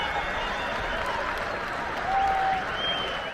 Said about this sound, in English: let's hear a round of applause for the command representative and all soldiers from Fort